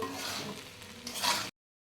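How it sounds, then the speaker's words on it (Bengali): A spatula scrapes and turns fried rice mixed with scattered egg in a pan, making soft, close scraping and a light sizzle for about a second and a half before cutting off. "আর একটু নাড়াচাড়া করে নেব, দেন আমরা নামিয়ে ফেলবো।"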